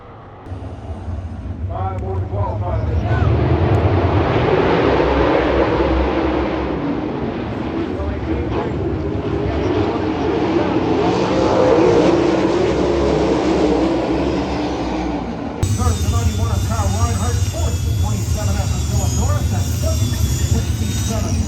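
Loud, continuous engine roar of 410 sprint cars racing a heat race on a dirt track, a sustained droning mass of noise that swells and holds, shifting character near the end.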